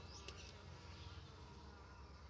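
Honey bees buzz around the front of a hive as a faint, steady drone, with a brief sharper buzz of one bee passing close early on.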